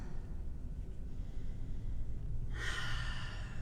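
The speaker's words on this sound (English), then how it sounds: "Just taking a few very intentional deep rounds of breath." During a yoga session, a deep intentional breath is drawn in slowly and quietly, then released as a louder airy exhale near the end, alone without talk.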